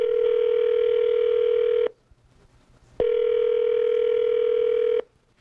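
Phone call to a business with a Las Vegas area code rings out unanswered: two long, steady electronic ring tones, each about two seconds, separated by a short silence, loud and close, with no voices.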